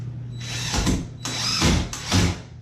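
A power drill drives a screw into a shim in a door frame during a house remodel. Three short whirring bursts sound close by, each rising and then cutting off, with brief pauses between them.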